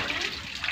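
Open running water poured while washing clothes by hand in a home, a steady broadband splashing rush filling the whole short moment at close range.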